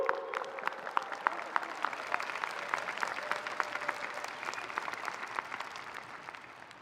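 A large graduation crowd at an advanced-degree commencement in a stadium claps and cheers in a dense, sustained wave that holds steady for several seconds before easing slightly.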